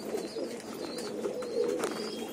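Soft, low pigeon coos repeat through the clip from a pigeon being treated for paralysis, a continuous murmuring close by with faint higher background sounds and no talking.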